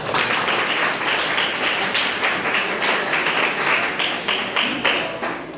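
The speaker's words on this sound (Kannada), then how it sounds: "ಚಪ್ಪಾಳೆ ತಟ್ಟೆಯವರಿಗೆ" Classroom applause at an arts college: sustained, dense clapping from many hands fills the room at steady loudness, with individual claps faintly distinguishable and no talking over it.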